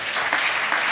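Applause from a church congregation, a steady dense clatter of many hands clapping close by, swelling slightly in two waves across the short burst with no speech over it.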